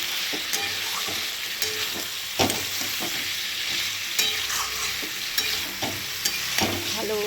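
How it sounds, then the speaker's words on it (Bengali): Fried vegetables cooked down with spiced water for Bengali khichdi: a continuous close sizzle in the pan, broken by repeated scraping and clacking strokes of a spatula. "ভালো করে আর একটু কষিয়ে নেব"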